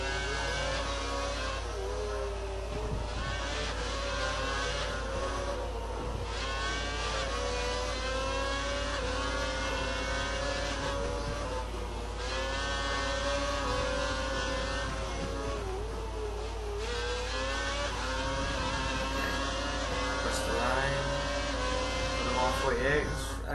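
A Formula 1 car in F1 2012 racing at Yas Marina, its high-pitched engine whining and shifting through gears continuously throughout, with someone talking over it.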